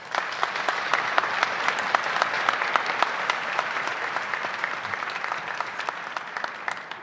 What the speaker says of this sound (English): Let's give another round of applause for our wonderful First Lady, Lori Shapiro.